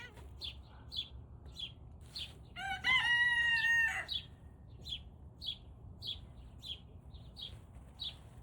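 A turken rooster lets out one strained, wavering crow lasting about a second, close and fairly loud, set among regular faint bird chirps that continue before and after it.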